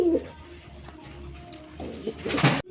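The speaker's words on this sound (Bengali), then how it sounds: "বন্ধুরা এখানে আরেক জোড়া বাগদাদি কবুতর আছে দেখেন" A pair of Baghdadi and racer pigeons coo nearby in soft, repeated throaty calls, with a brighter rustle or flutter near the end before the sound cuts off.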